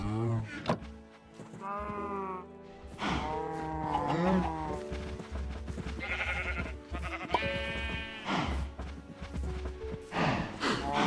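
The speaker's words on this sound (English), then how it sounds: "bring all of the cows back in their hole" Cows in a video game moo repeatedly, with several drawn-out, fairly close calls spaced across the stretch and brief pauses between them.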